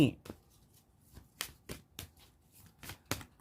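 Tarot cards are shuffled in a series of crisp, papery riffles and taps, spaced irregularly and heard up close at moderate volume.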